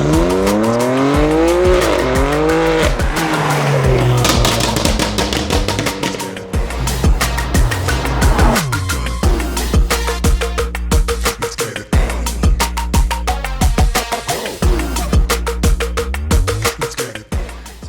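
A loud BMW M4 F82 with a Remus aftermarket exhaust revs hard repeatedly, rising and falling in pitch with sharp throttle blips and a raspy exhaust note.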